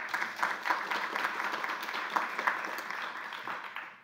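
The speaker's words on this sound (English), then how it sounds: "So she deserves a round of applause for putting this all together" Clapping from a modest audience after a presentation on rail research, a moderately quiet patter of many hands that stays steady for a few seconds and then begins to thin out.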